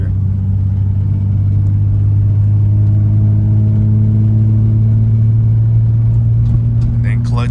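A manual-transmission car's engine hums steadily in second gear after a clutch shift, a loud continuous drone with the pitch slowly rising as it accelerates.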